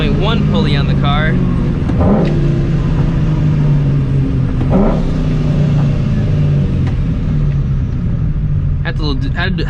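Supercharged 2V Ford Mustang GT with a Vortech 3.1 pulley, its engine revving loud and close in a sustained pull, a steady low rumble with a rising whine; a voice talks over it.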